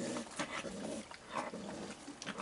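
A baby raccoon growls while eating on a rainy night, giving low, rough, rumbling growls in short repeated bursts, faint and close, with no talk over them.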